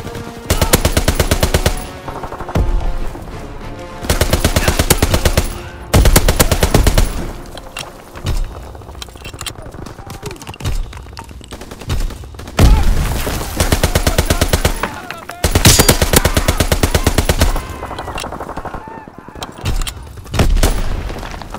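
Relentless gunfire in Call of Duty: WWII team deathmatch on the Shipment 1944 map: loud, close bursts of automatic fire repeating in quick succession, with occasional heavy booms and brief gaps between volleys.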